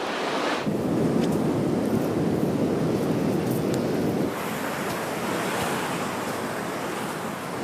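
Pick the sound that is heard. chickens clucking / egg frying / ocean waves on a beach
ocean waves on a beach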